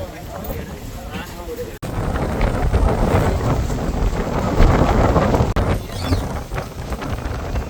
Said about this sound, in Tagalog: Sobrang lakas ng hangin dito.